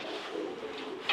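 A breeder's racing pigeon coos softly and continuously close by, a low steady murmur lasting about a second.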